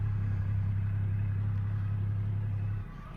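A Triumph Rocket 3 R motorcycle cruises along a road, its engine a steady, deep, droning hum heard close up. The drone eases off near the end.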